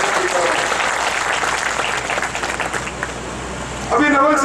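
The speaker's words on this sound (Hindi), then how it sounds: "मेरे सामने बैठे सभी लोग आपका हृदय से आभार व्यक्त करते हैं और जोरदार ताली बजाकर आपका स्वागत करते हैं।" Loud, dense applause from a gathering of Rajput community leaders welcoming a guest, a sustained wash of clapping filling the room before a voice cuts in at the very end.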